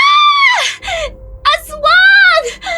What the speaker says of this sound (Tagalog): bigla akong napabalikwas nang marinig ko ang isang nakakatindig balahibong sigaw mula sa loob ng kwarto